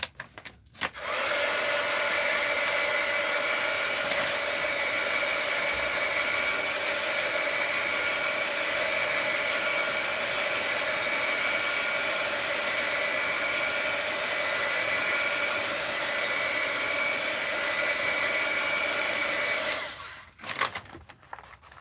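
A hair dryer blows steadily on damp paper craft artwork for about twenty seconds, a loud constant whine with a clear start and stop, and no talking.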